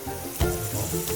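Hot gravy sizzles and fries in a home kitchen pan as milk is poured in, a soft crackling hiss that swells briefly partway through.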